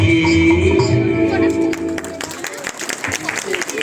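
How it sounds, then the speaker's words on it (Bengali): Audience applause for young child performers at a stage dance show, a dense broadband patter rising as the music fades, with voices mixed in. "জোরে হাততালি হয়ে যাক এই ক্ষুদে শিল্পীদের জন্য।"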